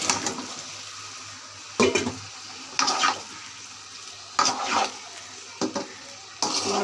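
Bottle gourd pieces tipped into a hot pan with spiced oil of coriander powder, turmeric and salt, then stirred, giving several short sizzling bursts and scraping clatters separated by quieter frying hiss, close and moderately loud.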